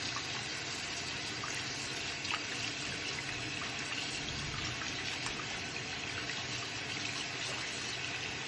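Steady running tap water pours continuously while hands are rinsed from wrists down to fingers, a constant close splashing hiss with no voices.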